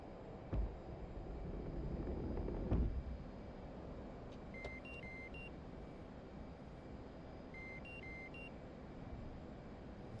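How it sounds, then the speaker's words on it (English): Short electronic cockpit beeps from the DCS flight simulator play in two brief stepped bursts over a steady low aircraft hum, with a duller thump near the start and no talking. "beep boop beeps"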